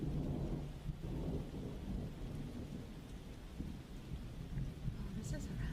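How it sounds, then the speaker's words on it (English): A thunderstorm with steady rain fills the whole stretch as a dense, even low rumble and hiss, quiet and continuous with no distinct claps standing out; no one speaks. "do you like the thunderstorm?"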